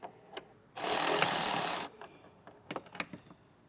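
An 8mm socket on a ratchet or power driver backs out a bolt behind trim on a 2025 Mazda, heard as a loud, steady mechanical whir lasting about a second, followed by a few light clicks and taps.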